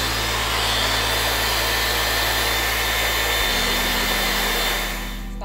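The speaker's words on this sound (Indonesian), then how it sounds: "Ini Dyson aku akan nyalain. Ini speed yang tertinggi ya." A Dyson Supersonic hair dryer runs at its highest speed, a loud, steady airy whoosh with a high whine that shifts slightly partway through, then eases off near the end.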